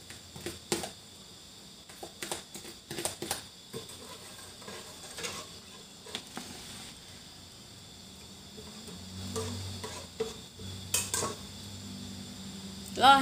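Pounded chili, shallot and lemongrass paste goes into a cooking pot for a bitter mushroom curry with young coconut shoots, bringing scattered clinks and scrapes of utensils against the pot and soft patters, with a faint hum underneath.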